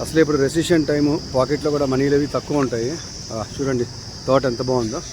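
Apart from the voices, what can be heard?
small insects making loud chirping sounds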